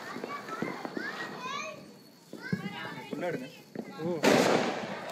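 Children chatter and shout excitedly during Diwali, then a single loud firecracker bang bursts near the end with a crackling tail.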